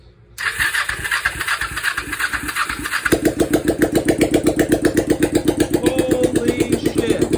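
A motorcycle engine running off a makeshift gas tank cranks over, catches and fires up, settling into a loud, steady, close-up running rhythm.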